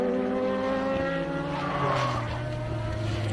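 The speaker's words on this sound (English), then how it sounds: "Somebody else skidding out there." A race car at a road-course speed event skids out on track, a loud engine drone whose pitch sags as the revs fall, with a rough tire scrub swelling in the middle, heard at a distance.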